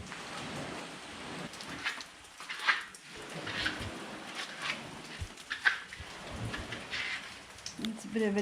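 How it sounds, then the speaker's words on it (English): Steady patter of rain water dripping in a cool, sheltered spot near an Australian beach, a dense close hiss of drops with occasional louder splashes and faint distant rumbles, no talking. "See the water dripping down."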